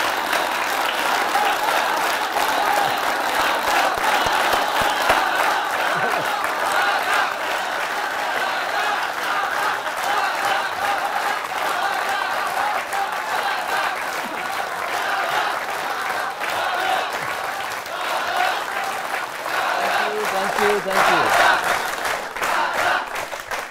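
A studio audience claps and cheers steadily and loudly to welcome cricketer Sourav Ganguly, with a dense, sustained wash of applause throughout and a brief swell near the end.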